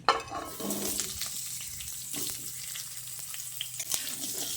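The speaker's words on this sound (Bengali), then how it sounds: "এবার এর মধ্যে কেটে রাখা আলুগুলো দিয়ে দিচ্ছি" Potatoes frying in hot oil with panch phoron spices, a steady close sizzle with scraping stirs, a brief burst of louder crackle as they go in, no talk.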